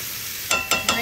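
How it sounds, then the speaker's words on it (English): Vegetables sizzle steadily in melted butter in a pan for chicken pot pie filling, with three sharp louder bursts of frying as they are stirred or shifted near the end. "We're going to let that cook in butter for a bit."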